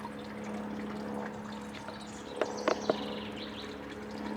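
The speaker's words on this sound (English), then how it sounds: "Water is draining down." Water trickles and drains down through a Greenstalk planter, a quiet continuous flow with a steady hum behind it and a few brief louder splashes or drips near the end.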